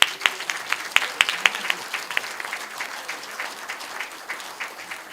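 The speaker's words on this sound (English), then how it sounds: "when I ask you to give him a big round of applause" An audience at a professorial inaugural lecture applauding, a dense burst of hand claps that opens with a few sharp, loud claps and then settles into steady, moderately close clapping with no one speaking.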